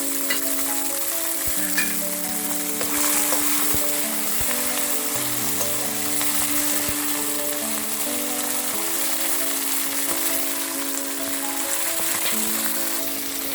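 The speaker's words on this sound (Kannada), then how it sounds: "ಹಸಿ ಬಟಾಣಿ ಏನಿದೆ ಅದನ್ನು ಕೂಡ ಸ್ವಲ್ಪ ಎಣ್ಣೆಯಲ್ಲಿ ಸ್ವಲ್ಪ ಫ್ರೈ ಮಾಡ್ಕೊಳ್ಳೋಣ" Fresh green peas frying in oil for peas chitranna give a steady, close, broadband sizzle that runs unbroken throughout, with background music playing over it and no talking.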